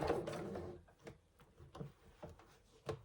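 A sewing machine stitching a bag, with quiet mechanical whirring and clicking bursts at close range, brief and uneven, with no talk over it.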